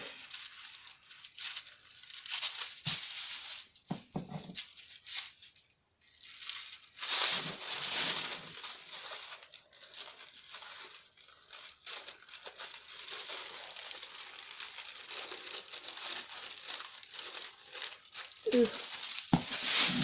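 Tissue paper being cut with scissors and crinkled while making a sewing pattern, a soft, close rustling and crackling that comes in irregular bursts with brief quiet gaps.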